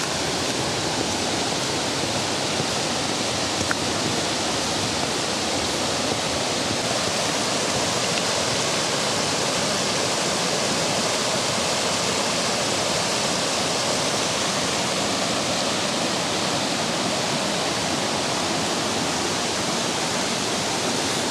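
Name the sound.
river flowing along a trail in the Pocono Mountains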